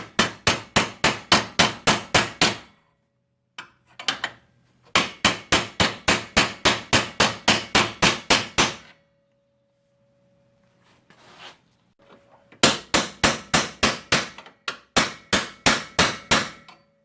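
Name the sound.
hammering a bearing into a camper crankshaft housing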